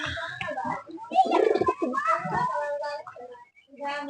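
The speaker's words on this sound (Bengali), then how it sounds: "এই জায়গার কবুতর গুলো দেখাও।" Fancy and high-flying pigeons kept in a hobbyist's collection coo in low, throaty rolling bursts close by, mixed with people talking nearby.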